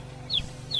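Two short clucks from a backyard chicken, one around mid-clip and another near the end, over a steady low background hum.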